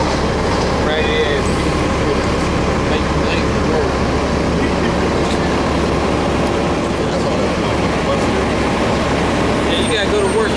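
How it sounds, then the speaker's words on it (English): Loud, close rumble of a city bus passing on the street, a continuous low engine and road roar with traffic noise throughout, with people talking over it. "I'm going to wait till this bus goes by."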